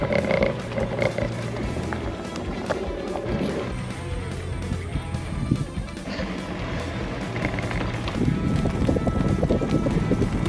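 Strong wind buffeting the microphone outdoors during a bike ride along an old road near a wetland, a steady loud roar of gusts with low rumbling that swells toward the end.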